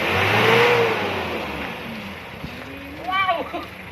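A car engine treated with an anti-smoke oil additive revs up to about 3,500 rpm during an emissions test. The steady engine drone sits under people talking nearby.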